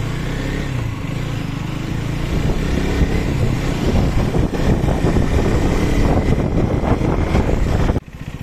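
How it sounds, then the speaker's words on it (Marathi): A KTM Duke 250 motorcycle engine drones steadily under heavy wind rush on the Mumbai–Goa highway, a loud continuous roar of riding at speed that drops off abruptly near the end. "आपली बाईक स्टार्ट झालेली आहे, सुरू करूया आपली राईड पुन्हा।"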